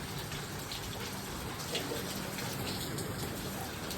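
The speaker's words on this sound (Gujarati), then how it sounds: "વરસાદ હજુ ચાલુ જ છે, જોઈ શકો છો તમે, ફૂલ વરસાદ ચાલુ છે" Steady heavy rain pours down continuously, a dense hiss of drops splashing on surfaces with no pauses and no voices.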